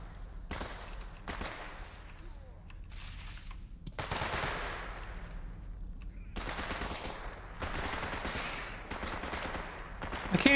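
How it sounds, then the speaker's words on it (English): Bursts of rapid gunfire from the video game STALKER, coming in several sustained volleys with short gaps between them, loud and close throughout. "I can't even see the gunfire."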